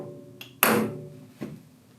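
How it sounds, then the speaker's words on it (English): A machinist hammer taps a part down into a vise on an Optimum BF 30 Vario vertical mill, with three close metallic knocks: a light one, a sharp loud one, then a softer one. No one speaks. "I will tap it in with the machinist hammer"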